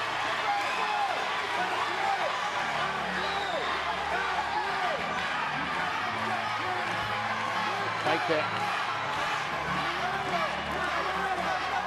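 A crowd at an LFA MMA fight cheers and shouts steadily in support of fighter Catherine Roy during the third round, a dense continuous roar with a commentator speaking over it.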